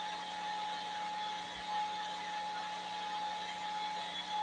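A hair dryer drying a painting hums continuously at low volume, a steady whirring blower with a constant high-pitched whine running through it.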